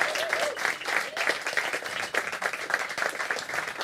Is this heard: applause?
yes